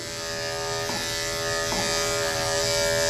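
Andis electric dog grooming clippers fitted with a 1 guard, humming in a steady, close, even buzz that continues throughout.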